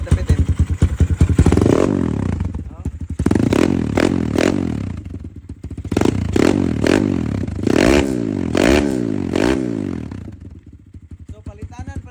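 Kawasaki KLX150 dirt bike with a straight pipe, 2024 build with a 68mm bore kit, cranked by a power starter and revved in repeated sharp bursts, loud and close, the raw exhaust crackling and rattling between throttle blips.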